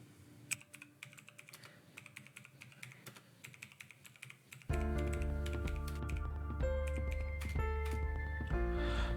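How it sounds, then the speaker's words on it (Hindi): Typing on a computer keyboard, with quick irregular key clicks close by. Partway through, a steady tonal hum starts and continues under the clicks. "सप्लायर का नाम टाइप करें।"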